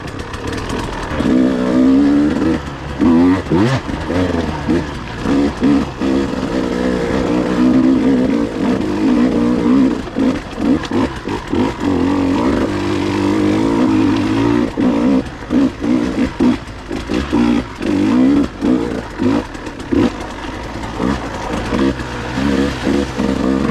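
A KTM 150 XC W TPI dirt bike ridden along unfamiliar single-track trails, its engine droning loud and close throughout, pitch rising and falling with constant throttle blips and revs, no voices.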